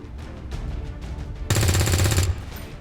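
An XCOM 2 trooper opens fire on an enemy: several spaced single shots give way to a sustained, loud, close burst of rapid automatic fire that cuts off abruptly.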